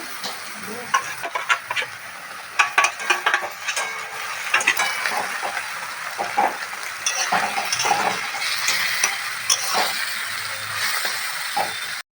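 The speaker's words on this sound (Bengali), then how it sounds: "পেঁয়াজগুলো লাল লাল করে ভাজা হয়ে গেছে। আমি এর মধ্যে দিয়ে দেব রসুন বাটা।" Onions fry with a steady sizzle as garlic paste is added, while a utensil stirs and scrapes the pan in irregular bursts, close up and fairly loud.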